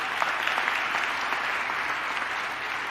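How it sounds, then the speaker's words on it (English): Steady, dense applause from an audience at an Advocate Health Care press conference, a continuous crowd of clapping hands at even loudness for the whole stretch with no talk over it. "And that deserves an applause."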